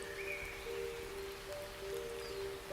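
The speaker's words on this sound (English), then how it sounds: "The rain was little more than a small drizzle at that point" Light drizzle falling in woodland, a soft, steady patter of raindrops that stays faint and even throughout, with a faint tonal hum in the background.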